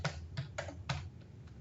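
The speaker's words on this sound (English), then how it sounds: "let's go to our calculator. And we are going to type in these numbers" Numbers are keyed into a calculator as a quick run of about five light, crisp button taps, close and quiet, with no talk.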